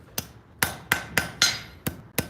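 A blacksmith hammers forge-welded steel with seven sharp, ringing blows in an uneven rhythm, each strike close and distinct, with no talking.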